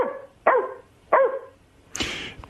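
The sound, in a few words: dog barking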